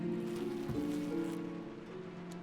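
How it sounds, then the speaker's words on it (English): Steady rain falls in the video game Dishonored, a soft continuous hiss with faint low tonal hum beneath, moderately quiet and unbroken. "I hear rain."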